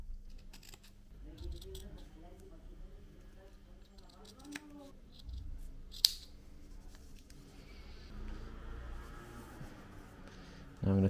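Scissors snip through a leather strip while making a canvas foraging bag, several close, crisp cutting clicks spread over quiet room tone, with one sharper snap midway.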